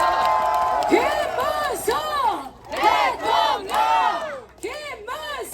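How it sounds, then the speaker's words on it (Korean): Crowd at an outdoor Korean political campaign speech in Paju shouting and cheering in bursts of loud voiced chants, rising and falling rhythmically, with amplified vocal cries dominating rather than clapping. "박수 한번 해주세요."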